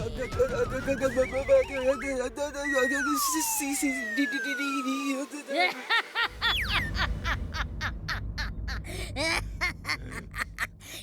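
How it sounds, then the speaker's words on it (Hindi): Cartoon donkey braying in an animated 3D kids' action show, a loud honking, whinnying call with rising and falling tones, followed by rapid repeated bursts amid music and effects. "ये गधा चिंटू का दोस्त लगता है।"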